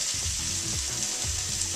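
Sausage meat taken out of its casing fries in a pan, giving a steady close hiss and sizzle with faint stirring scrapes and no talking.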